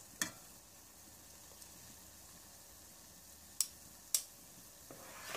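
Quark balls frying in hot fat in a pot, a faint steady sizzle with a few sharp clicks of spoons dipping in at intervals.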